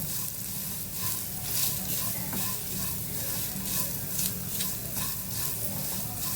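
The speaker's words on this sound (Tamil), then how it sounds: "காடமம் பவுடர், ஏலக்காய் பவுடர் எல்லாத்தையும் போட்டு லைட்டாக வறுத்துக்கலாம்" Ingredients with cardamom powder lightly dry-roasting in a pan for a moong dal laddu, a soft steady sizzle with repeated stirring scrapes, close and even throughout.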